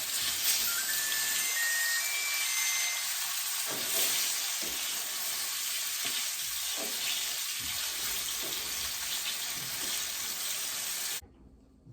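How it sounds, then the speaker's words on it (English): Chicken pieces browning in a pan for chicken cacciatore give a steady, close hiss of frying that runs unbroken for about eleven seconds before cutting off abruptly. "as I brown them, I'll be putting them in the dish"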